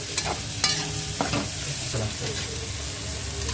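Capsicum sautéed with fried onion in a pan for noodles, a loud close sizzle with repeated spatula stirs and scrapes throughout.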